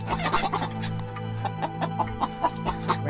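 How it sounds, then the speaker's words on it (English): Chickens in a chicken coop cluck busily in short, repeated bursts, close and agitated, with several birds overlapping. "the chickens in the chicken coop were getting quite riled up with the raccoon's"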